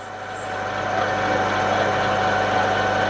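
Lathe running steadily while machining a front cylinder cover, a continuous mid-pitched mechanical hum with faint vibration that swells slightly after the first half second and then holds level, with no talking.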